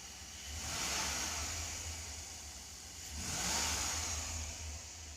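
A Chevrolet Express 1500 van engine runs after an intake manifold gasket repair, idling smoothly with two gentle revs that swell and settle, steady and close with no talk.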